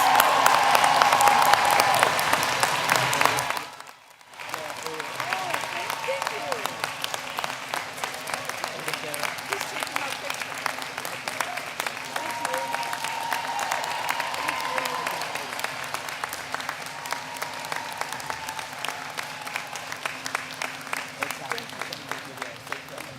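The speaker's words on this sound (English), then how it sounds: "Give yourself a round of applause." Applause fills the hall at the University of Maryland 2023 commencement ceremony, a large crowd clapping steadily and loudly, broken by a brief pause before the clapping resumes and continues with crowd murmur.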